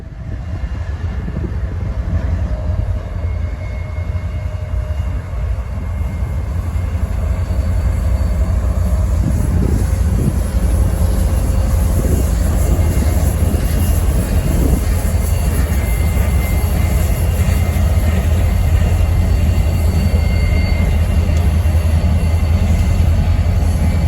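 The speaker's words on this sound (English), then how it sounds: "just in time to catch the southbound train of rather grimy covered hoppers" A southbound freight train of grimy covered hoppers rolls past at Winton Place in Cincinnati, a loud continuous rumble and rail clatter that holds steady throughout.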